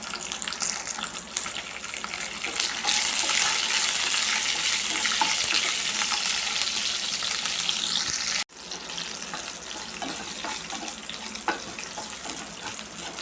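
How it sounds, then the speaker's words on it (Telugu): Urad dal and green chillies frying in oil in a pan: a loud, dense hiss of sizzling that swells after a few seconds, breaks off abruptly, then resumes at a steady level. "మినప్పప్పు వేసి వేయించుకోవాలి ఇందులోనే పచ్చిమిర్చి కూడా వేసి వేయించుకుందాం"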